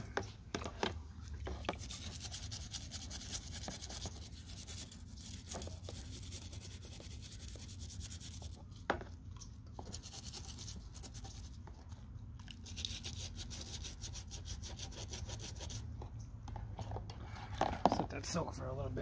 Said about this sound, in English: Scrubbing this dirt off.